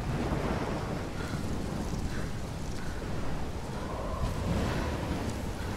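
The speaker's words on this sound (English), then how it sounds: "I've never seen a storm like this in Oregon." Storm wind in the adventure game Life is Strange, set in Oregon: a steady, rushing roar of gusting wind with a deep rumble, continuous and fairly loud throughout, with no clear voices.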